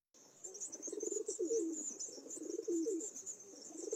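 A flock of pigeons coos in a continuous, overlapping rumble, set against a steady high hiss that sounds like insects, with no talking.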